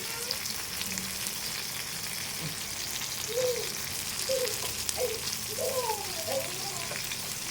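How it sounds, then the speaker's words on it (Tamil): Fish fries in a pan of hot oil with a steady close sizzle and crackle, with faint voices in the background. "fish fry"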